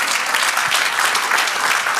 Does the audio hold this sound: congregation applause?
yes